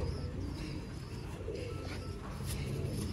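A prized pigeon coos softly in a loft, low muffled calls faint beneath a steady broadband background hiss, with a few brief chirps and no speech.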